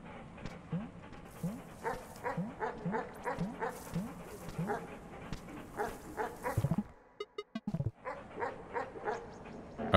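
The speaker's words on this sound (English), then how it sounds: "Okay, no, they're real dogs." Dogs in the video game Animal Well give rapid, rhythmic yapping barks over a steady droning ambience, with a brief burst of sharper clustered yelps near the end.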